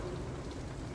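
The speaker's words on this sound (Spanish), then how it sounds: "Está lloviendo." Rain falls in a video game, Vampyr, as a soft, steady patter and hiss, faint and continuous throughout.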